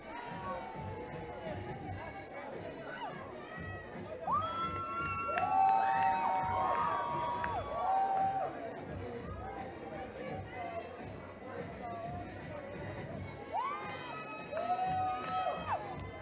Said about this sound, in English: A lot of cheering going on.